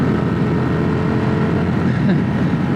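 A small-displacement motorcycle cruises in top gear at 65 mph, its engine a steady loud drone blended with heavy wind rush, holding an even level throughout.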